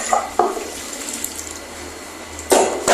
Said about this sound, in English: So I'm just going to rinse out the conditioner from it.